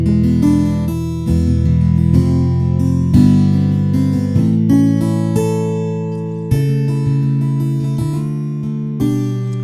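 A sampled acoustic guitar from the MegaMagic Guitars Volume 3 virtual instrument strums and picks a sequence of chords, each attack clear and close, ringing with full sustain and no voices over it.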